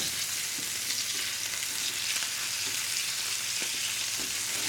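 Italian sausage and vinegar peppers fry in a pan over medium-high heat, a dense, even sizzle that holds steady throughout with a few faint clicks of stirring, close up and with no talk.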